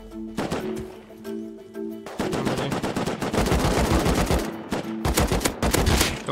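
Video-game gunfire from a survival shooter, loud close bursts of rapid automatic shots with brief pauses, continuing in heavy volleys toward the end.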